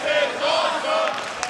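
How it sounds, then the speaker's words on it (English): Wrestling arena crowd roaring and cheering loudly in a short sustained burst, a dense wall of voices close and energetic. "And this crowd is loving it"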